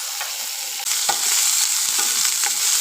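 Onion sautéing in a pan until brown, a loud close sizzle that jumps up sharply partway through, with light stirring scrapes and no talk.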